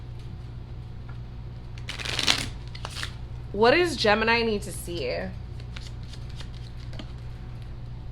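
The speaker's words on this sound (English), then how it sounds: "They're telling me to shuffle again." Tarot cards are shuffled by hand in a few quick riffling bursts close to the microphone, with a brief spoken question partway through and low steady background hum throughout.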